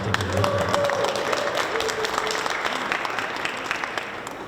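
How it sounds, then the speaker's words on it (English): Applause for a graduating cohort of an executive business accelerator in Newark, many hands clapping steadily at moderate volume and slowly tapering off, with faint voices and a brief tone underneath. "give them all a round of applause for sticking with us"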